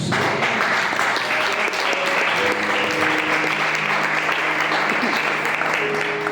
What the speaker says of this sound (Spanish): Yo pensé que iba a darle una ofrenda de aplausos.